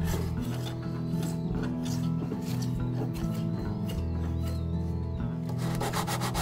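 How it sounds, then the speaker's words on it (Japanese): Sandpaper is rubbed hard against the end grain of a board for a deck build, a close, steady rasping scrub in quick back-and-forth strokes, with background music running underneath. "小口をね、ペーパーで一生懸命こすってみたんですけど"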